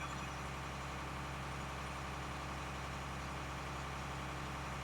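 A Versatile tractor engine runs steadily in Farming Simulator 19, a low, constant idling drone with no variation, heard alone and fairly quiet.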